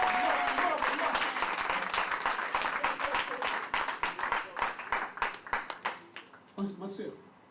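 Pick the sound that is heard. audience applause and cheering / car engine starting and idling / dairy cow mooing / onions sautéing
audience applause and cheering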